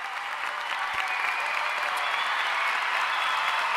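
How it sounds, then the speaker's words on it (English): Audience applause for a guest on a podcast episode, a steady wash of clapping that holds at an even level for a few seconds. "let's give him a round of applause."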